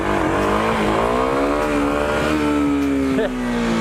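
A Kawasaki KLX 250 dirt bike engine revs hard and steadily as the front wheel lifts into a wheelie, a loud, close, sustained high-pitched drone whose pitch drops slightly near the end.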